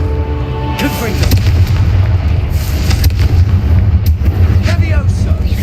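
Spells are cast in combat in Hogwarts Legacy, including the fiery Confringo, producing loud booming blasts and rumbling impacts over a heavy low roar, with crackling bursts at several moments.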